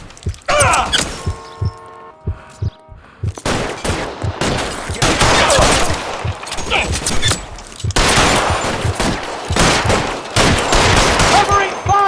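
Loud bursts of gunfire in L.A. Noire gameplay, with a few separate shots at first and then long, rapid volleys and near-constant shooting. Breaking and shattering sounds are mixed in, along with some faint talk.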